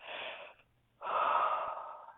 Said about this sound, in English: Big release here as you hear yourselves yawn